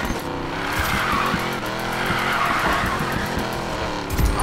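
A 1970 Plymouth Barracuda drifts with loud, sustained tire squeal over a roaring, revving engine, close and continuous, ending in a sharp burst.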